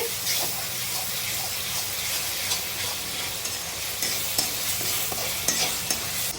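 Masala spices frying in a pan for chicken drumstick curry give a continuous close sizzle with steady stirring and occasional spatula clinks, unbroken throughout.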